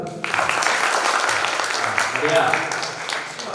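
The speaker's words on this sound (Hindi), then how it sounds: "थोड़ी ताली वाली बजा दो।" Audience applause at an all-India Hindi poetry gathering, a steady spread of clapping hands lasting a few seconds, with voices and crowd murmur mixed in beneath.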